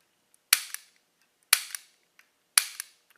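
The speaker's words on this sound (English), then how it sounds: "it's got a really smooth double action trigger." The double-action trigger of an FMK 9C1 Gen2 pistol is dry-fired three times at steady one-second intervals, each a sharp close metallic snap followed by a faint secondary click.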